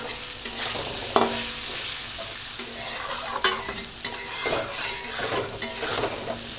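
Potatoes frying lightly in a pan with salt and turmeric, a steady sizzle broken by scraping stirs of a spoon against the pan, close and alone with no talk.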